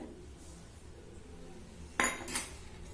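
A spoon clinks and scrapes in a bowl as cumin powder, coriander powder, chilli powder and two spoons of oil are mixed together for palak paratha, with two short bursts of metallic clatter near the end after a quiet start.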